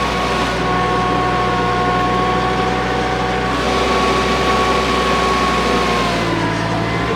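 Loud, steady tractor engine drone with tonal harmonics as the tractor pulls a plow through heavy clay soil, the pitch sagging slightly near the end as the engine bogs down under the load.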